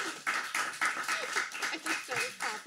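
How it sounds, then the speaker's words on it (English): A single person claps their hands in a quick, uneven run of about eight or nine claps, close and fairly quiet, with brief vocal sounds between them. "just started clapping for myself"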